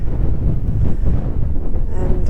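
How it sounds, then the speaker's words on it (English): Strong northeast wind buffets the microphone in a continuous, loud low rumble for the whole stretch, with gusty surges and no speech. "Look at the wind."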